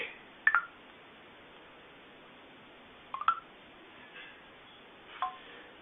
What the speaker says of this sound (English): Call Jack Black